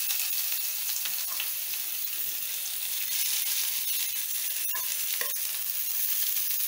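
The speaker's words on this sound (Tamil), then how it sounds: "இப்போ வெங்காயம் சேர்த்துக்கோங்க." Onions sautéing in a pan, a steady broadband sizzle that holds evenly throughout, with a few brief stirring scrapes near the end and no voices.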